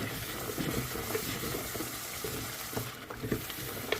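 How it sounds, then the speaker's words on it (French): A spoon stirs and scrapes caramelized pork from the bottom of a pot of sauce in irregular strokes over a soft, constant sizzle, with no one speaking. "je vais venir bien mélanger et racler tout ce qui se trouve"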